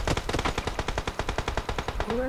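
An MG3 machine gun fires in PUBG Mobile as a loud, rapid, evenly spaced string of about twenty shots, rattling without pause until a short tail at the end.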